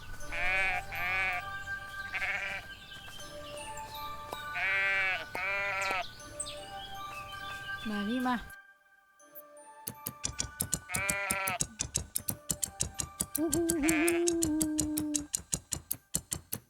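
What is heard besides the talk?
sheep bleating during a shearing minigame in the video game Everdream Valley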